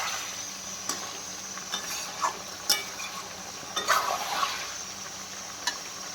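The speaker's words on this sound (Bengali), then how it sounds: "তো মাংসটা ভেজে ভেজে বানাচ্ছি" Chicken pieces sizzle in a pan with fried cumin, chilli, cloves and cardamom in a home kitchen, a steady soft frying hiss broken by occasional scrapes and stirring clatters, with no talking.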